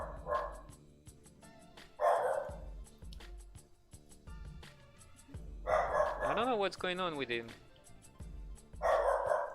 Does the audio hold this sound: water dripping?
no